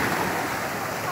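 Waves wash steadily onto Sunset Beach in south Florida on a hot day, a continuous broadband surf roar with no clear breaks.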